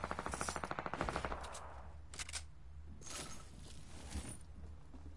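An AK rifle fires in the video game Fortnite: a rapid burst of automatic shots opens, followed by a few scattered single cracks and bursts, moderately close.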